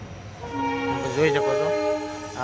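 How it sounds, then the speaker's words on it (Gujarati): A train pulls slowly away from Dhola junction, a long horn or whistle tone sounding near and loud over steady rail rumble. "ટ્રેન ઉપડી ગઈ ધીમે ધીમે."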